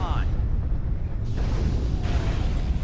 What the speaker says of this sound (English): Now something else is shooting at me!